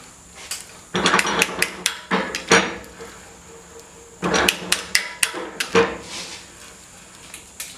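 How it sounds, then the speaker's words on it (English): Metal cuttings from hand-threading pipe fall into a pan below, producing clusters of sharp, bright metallic clinks and taps in irregular bursts, some in quick succession, amid ratcheting work sounds. "you can hear pieces where it's cutting, hitting the pan down below every so often"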